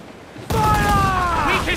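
Ship cannons firing in a naval battle in Assassin's Creed 4 Black Flag, a sudden loud blast followed by a sustained roaring rumble with whistling tones, voices shouting over it.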